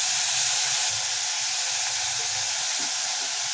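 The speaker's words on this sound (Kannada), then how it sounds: "ಕೊತ್ತಂಬರಿ, ಒಂದು 5 ನಿಮಿಷ ಕಾಲ ಎಣ್ಣೆಯಲ್ಲಿ ಚೆನ್ನಾಗಿ ಫ್ರೈ ಆಗಲಿ" Coriander frying in hot oil: a steady, loud, close sizzling hiss with no pauses and faint bubbling underneath.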